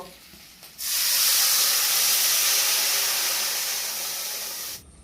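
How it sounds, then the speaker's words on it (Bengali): Water hits a hot pan of fried rohu fish and explodes into a loud, sustained steam hiss. The hiss holds for about four seconds, then cuts off abruptly. "আমি এখন জল দিয়ে দেব"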